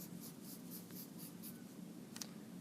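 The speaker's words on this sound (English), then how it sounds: "I'm coloring 1/6." A pen or marker scratches steadily across paper while a small box is colored in, a quiet, close, continuous scribbling with soft repeated strokes.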